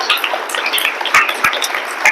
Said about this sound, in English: we'll just have a quick round of applause for Tariq, Sahel and the team.